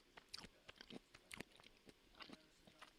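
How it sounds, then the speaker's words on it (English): Someone bites and chews a crunchy mango up close, producing a quick irregular series of faint crisp crunches and wet chewing clicks with no talk. "You can hear the crunch."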